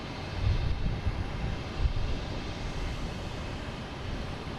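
A Cape Air commuter plane arriving at Boston Logan from Augusta gives a steady, distant low engine rumble that swells slightly early on and then holds evenly, with no one speaking.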